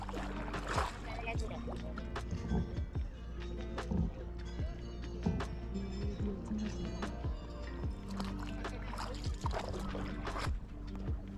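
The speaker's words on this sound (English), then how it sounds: "So we are in the boat right now, on our way to our hotel" A small boat crosses Phewa Lake in Pokhara, Nepal, with a continuous low rumble, water washing against the hull and scattered knocks and clatters close by.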